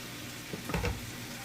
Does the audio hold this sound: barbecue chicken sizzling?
yes